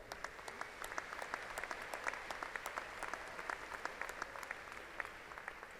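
Steady applause from a seated audience honoring graduates at a fall university commencement ceremony, many hands clapping at an even pace throughout, moderately distant and soft.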